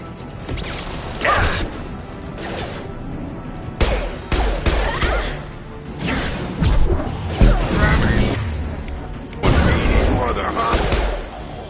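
Rifle gunfire in Mass Effect 2 arrives as repeated loud, clattering bursts with mechanical clanks and whooshes between volleys, and a voice talks over parts of it.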